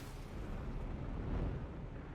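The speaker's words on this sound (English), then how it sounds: "get a missile launched on him by King" A missile launched in an air combat video game, a dense low roaring whoosh swelling in the middle and fading, heard without talk.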